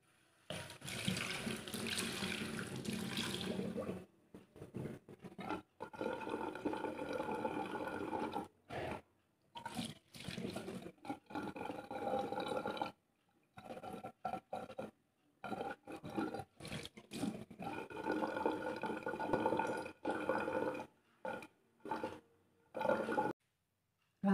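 Tap water running into a sink while the face is rinsed, in an evening skin-care routine, a steady splashing rush broken repeatedly by short gaps as the hands move in and out of the stream.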